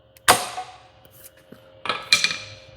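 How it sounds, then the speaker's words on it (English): A socket is tapped with a hammer to seat the gland onto the piston of a BRADCO grapple cylinder, giving a sharp metallic strike followed later by a quick pair of lighter knocks, close and clear. "We'll take our socket that we used to take the nut off, put it on the end of the piston and give it a bump"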